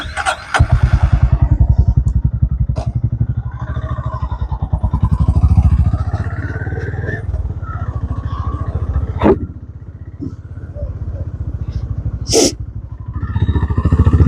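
A Honda CB350RS motorcycle left idling to warm up, its engine thumping in a steady, loud, close rhythm with a few sharp clicks and knocks along the way.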